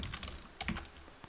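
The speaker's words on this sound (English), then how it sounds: "Make sure you type correctly, okay?" Quick, light typing on a computer keyboard, a short run of close keystroke clicks, quiet and alone.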